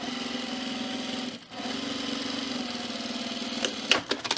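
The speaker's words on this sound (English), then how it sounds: "we're gonna sew these 2 ends at a 1/4 inch seam allowance" A sewing machine runs a quarter-inch seam joining two fabric ends of a cocoon project bag, a steady close motor whir with a brief pause partway, then a few sharp clicks and taps as stitching stops.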